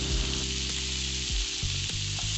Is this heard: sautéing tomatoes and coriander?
yes